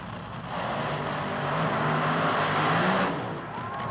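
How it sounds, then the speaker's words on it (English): Top Fuel dragsters rumbling at idle before first-round eliminations at the 1983 NHRA Cajun Nationals, a steady low engine drone that swells slightly toward the middle, heard from a distance with no talk over it. "As you can hear behind me, the Top Fuel dragsters are getting set for the start of first-round eliminations."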